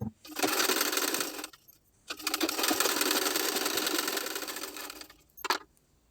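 A sewing machine stitches the side seam of a plain blouse, running in two steady bursts of rapid mechanical whirring separated by a short pause, then a final brief clatter before it stops.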